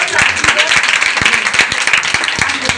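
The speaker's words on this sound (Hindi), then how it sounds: "एक बार जोरदार तालियां परमेश्वर की।" A church congregation at a Sunday meeting clapping loudly and steadily, many hands together with some sharp distinct claps and a low hum of voices underneath.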